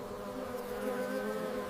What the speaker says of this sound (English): Bees gather both nectar and pollen during each trip.